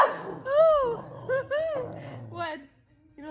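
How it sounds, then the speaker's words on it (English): A puppy whimpers and yips in a series of short, high, wavering cries, close to the microphone, with a person's voice mixed in among them. "Zion, what's that puppy doing?"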